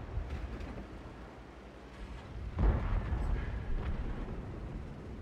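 Tank cannon fire and explosions in the World of Tanks video game, a distant rumbling battle with one sharp, heavy boom midway followed by a rolling low-frequency echo, fairly quiet overall.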